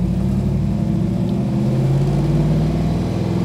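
A 1963 Chevrolet Nova's engine runs steadily while driving in first gear, a close, continuous low rumble with a slight rise in pitch, no talk over it.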